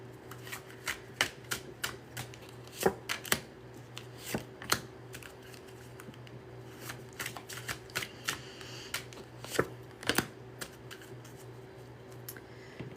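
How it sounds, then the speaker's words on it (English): A deck of reading cards being shuffled by hand, producing a run of sharp, irregular riffling clicks and snaps close by, alone without talk. "And I am shuffling upside down."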